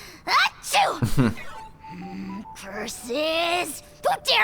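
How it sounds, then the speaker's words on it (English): A cartoonish character sneeze from Genshin Impact, a sharp voiced burst standing apart from surrounding game dialogue, with other character voices speaking before and after it. "Achoo!"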